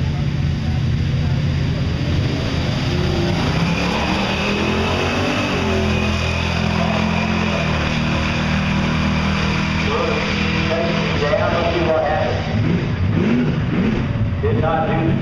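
A 1969 Camaro, slick black, revs its drag racing engine at a Kennedale car club event, a loud steady low rumble with rising revs, heard under a commentator's voice on the PA.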